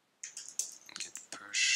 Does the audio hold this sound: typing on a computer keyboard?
yes